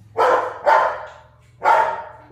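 A black female pug barks three times in sharp, loud, close bursts, two in quick succession and then a third after a short pause, over a low steady hum.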